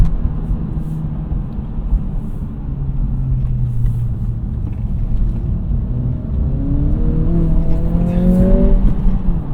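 An Acura Integra, traction control off, accelerates through a corner with its engine note rising steadily from a low rumble to a louder, higher drone, heard from inside the car.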